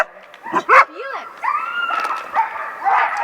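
Alaskan Husky sled dogs bark, yip and howl in an excited close chorus, with several overlapping voices rising and falling throughout.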